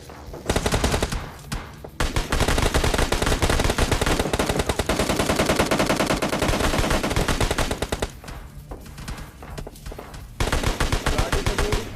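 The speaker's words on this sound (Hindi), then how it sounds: "दूर से भी कोई ना कोई गोली चला रहा है" Gunfire in the mobile battle-royale game PUBG Mobile Lite: loud, dense rapid bursts fired almost nonstop, with brief lulls around the second and ninth seconds, and no talk over it.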